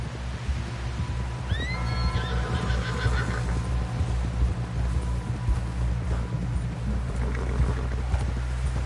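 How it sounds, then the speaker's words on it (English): A horse whinnies loudly in the video game Red Dead Redemption, a rising and falling neigh, over a constant low rumble with hooves and movement sounds beneath. "Someone help John down off this horse."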